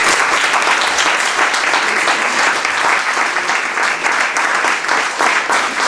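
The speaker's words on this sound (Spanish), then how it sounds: "aplauso a Jesús, hermano." A church congregation breaks into loud, sustained applause, dense clapping from many hands filling the room steadily for several seconds.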